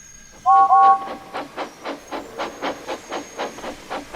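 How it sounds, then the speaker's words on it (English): Gordon, a steam engine, lets out a sharp double whistle and then a steady series of rhythmic steam chuffs and hisses, loud and close, with no talk. "He hissed steam rudely at James and sent him back to the shed."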